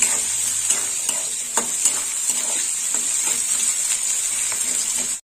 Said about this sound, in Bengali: এবার একটু পেঁয়াজটা লাল লাল করে ভেজে নেবো।